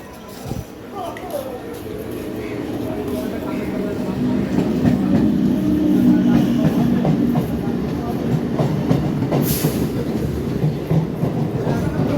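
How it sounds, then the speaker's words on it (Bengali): A train runs along the rails with a steady rumble and rhythmic clatter that builds and stays loud, with people talking nearby over it. "ট্রেনে করে এবার ট্রেনে উঠবো।"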